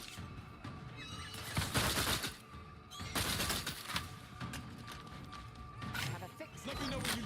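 Gunfire from The Outer Worlds 2 video game comes in loud bursts and volleys with crashing impacts, mixed with game sounds, while voices talk over the shooting.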